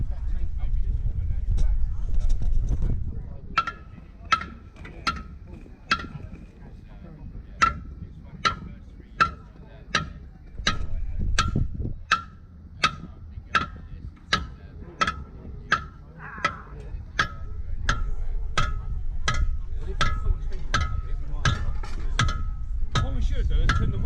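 A tank part gets hammered during a field repair at a military show, with a long series of sharp metallic strikes at an uneven rhythm, pausing now and then, over outdoor rumble and people talking.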